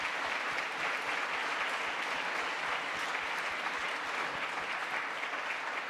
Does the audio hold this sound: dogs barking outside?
no